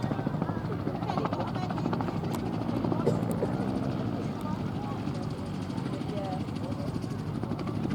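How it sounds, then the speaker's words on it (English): A light aircraft of about 300 kilos empty makes repeated touch-and-go passes in a flying display at the Midlands Air Festival, its steady propeller drone droning under a commentator's voice. "Certainly demonstrating the controllability of the aircraft."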